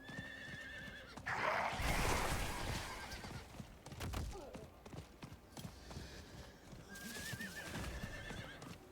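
A horse in the Diablo 4 video game whinnies twice amid steady clip-clop galloping hooves, with game effects and a voice talking over parts of it.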